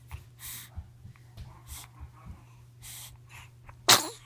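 A three-week-old baby sneezes once, sharp and close, near the end, after a stretch of soft snuffly breaths and small faint sounds in a quiet room.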